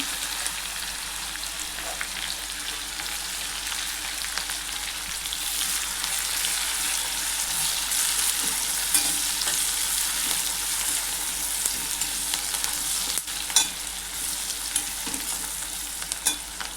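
Chopped onion with crushed garlic sautés in a pan, a long continuous sizzle with faint stirring scrapes throughout, steady and close, with no voices.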